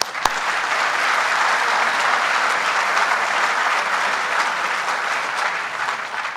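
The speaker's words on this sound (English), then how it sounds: "may I ask all the non-government officials to applaud for the elected government officials for a job well done" An audience at a jobs announcement in Dunkirk applauds elected government officials, with loud, sustained, uniform clapping from a sizable crowd that holds steady from start to finish.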